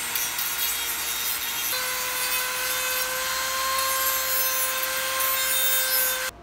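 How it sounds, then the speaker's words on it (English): A Dremel rotary tool polishes the edges of a homemade flute, producing a steady high whine with rubbing grind, loud and close, running continuously until it cuts off abruptly near the end. "Borrow of Dremel, and let's polish the edges."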